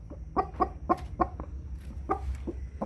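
A hen searching for a spot to lay her egg clucks about eight times in short, uneven bursts, close by and clear over a faint low rumble.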